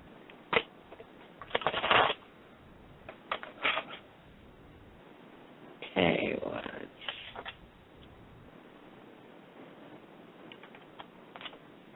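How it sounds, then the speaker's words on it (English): Tarot cards are shuffled by hand in several crisp, riffling bursts with pauses between, close and fairly quiet, alongside faint talk. "Give it one more shuffle, and let's see what they say."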